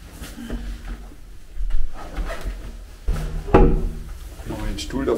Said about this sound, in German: Die Tür machen wir zu.